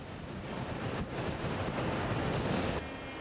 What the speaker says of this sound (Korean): 오늘따라 바람이 제법 분다.